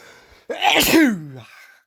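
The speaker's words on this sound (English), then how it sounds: "I'm going to sneeze again" A single loud sneeze up close, with a sharp wind-up and a voiced, falling finish, heard on its own.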